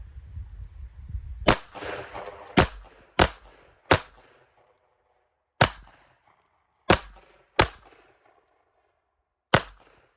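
Two handguns fired at the same time, one in each hand, outdoors: eight sharp loud reports at irregular spacing, each followed by a brief decay, with a rustle of handling at the start.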